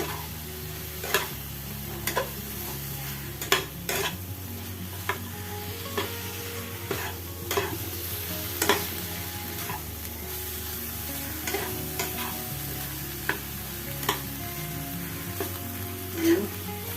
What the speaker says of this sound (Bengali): সবজিগুলো দিয়ে এবার নাড়াচাড়া করে নিয়ে ভালো মতন